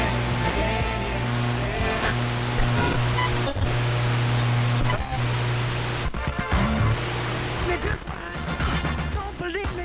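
A British Leak Trough-Line FM tuner tuned to a weak station gives a broad rushing hiss of static, loud and steady, with faint broken music and voice-like fragments drifting through the noise.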